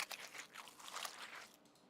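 Chewing sound effect for a zombie game: a short, close, wet crunching and munching with several quick bites and crinkly tearing textures, quiet and isolated.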